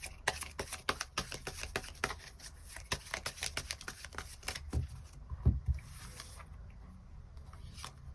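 Tarot cards being shuffled and drawn, with quick, close riffling and flicking bursts in rapid rhythm that thin out into a few soft slaps and taps of cards being laid down.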